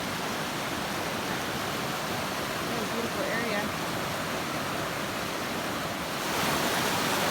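Swift river water rushes in a steady, loud, unbroken roar beside a Pacific Crest Trail crossing point, with a person briefly speaking over it.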